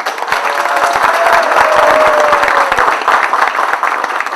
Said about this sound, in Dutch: Graag een applaus.